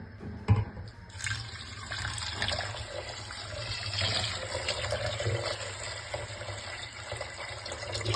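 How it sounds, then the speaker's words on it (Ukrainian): Water poured over rinsed wheat grain in a cooking pot for kutia, a steady splashing stream close to the mic after a single knock at the start, fairly quiet and with no voices. "Тепер заливаємо пшеницю водою на 3-4 см поверх."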